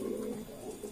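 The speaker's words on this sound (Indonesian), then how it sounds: "Kalau jantan juga pasti bekur-bekur ya, kalau burungnya sehat semua." Racing pigeons coo steadily in a loft, a soft low rolling murmur running through the whole moment, close and fairly quiet with no talk.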